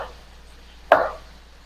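A single crisp knife chop through carrot on a cutting board during home cooking, a sharp near thunk after quiet.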